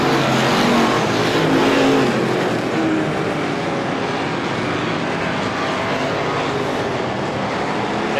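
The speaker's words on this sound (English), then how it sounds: "Cashman now giving the bumper to Dufanet, trying to get back by him." Stock cars race around a speedway in a feature event, a dense continuous roar of several engines close and loud, holding steady for the whole stretch with no voices over it.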